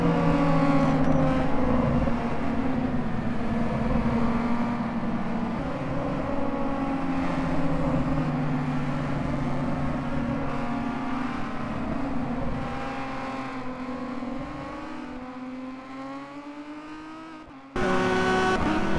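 Race cars warming up their tyres and brakes at Silverstone in the rFactor2 racing simulator, engines droning steadily with overlapping pitch sweeps from several cars, loud throughout before a sudden louder burst near the end.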